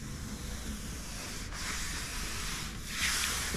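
A hand rubs steadily over a welded steel door panel on a Mustang GT Falcon coupe in a workshop, producing a close, continuous soft scraping hiss with no talk.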